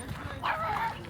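A small dog gives a single brief, high yip, fairly faint and close, set against low background noise.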